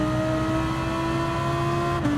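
A GT3 race car engine in Gran Turismo 7 holds a steady, loud, high drone at near-constant revs, with a brief pitch change at the end and no talking.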